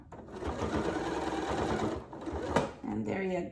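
A Janome Memory Craft MC9450 sewing machine stitches a face mask in one continuous close, steady whirring run that pauses briefly before starting again.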